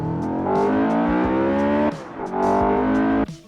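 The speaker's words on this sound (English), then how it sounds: "Let's just replay that VTEC kick" A Honda S2000 AP1 engine revs hard and climbs into VTEC, its loud, harmonic-rich wail rising steadily, then briefly dropping at a shift before surging again and cutting off abruptly at the end.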